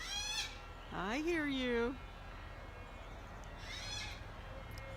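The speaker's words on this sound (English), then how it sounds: "the birds and everyone are quite excited about being on quote-unquote television at this moment, obviously. They're chattering away" Birds chattering outdoors around a great tree at Isis Oasis on Earth Day: one loud, sweeping, warbling call stands out, with fainter calls before and after over a quiet background, and a voice speaks briefly.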